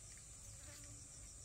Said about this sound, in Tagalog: Mga lamok.